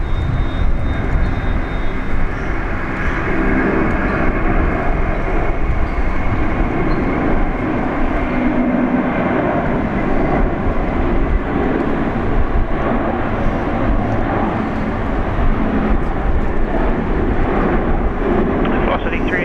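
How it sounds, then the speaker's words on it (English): Korean Air jet taking off from Brisbane Airport, a loud, continuous low engine roar with wind buffeting on the microphone, steady throughout the run with a voice talking underneath. "our next one, taking off Korean Air flight 408, going back to Seoul"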